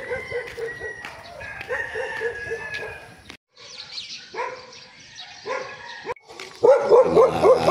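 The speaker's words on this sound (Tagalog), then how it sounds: "Mga aso dito, ang gangahol." Dogs bark repeatedly in a residential subdivision, loud and near, in a steady volley of barks, while a rooster crows at the same time and the barking swells louder toward the end.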